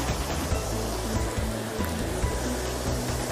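Steady rushing water from a waterfall in a reforested nature reserve with forest and former pasture, a broad continuous roar heard close and unbroken.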